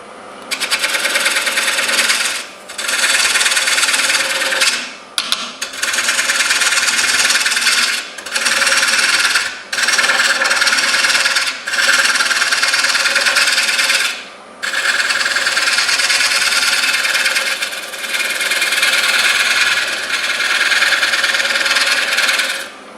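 A 12-inch red oak bowl spins on a woodturning lathe while a tool cuts it, giving a loud, continuous harsh scraping and rasping. Several short pauses break the sound as the tool lifts off.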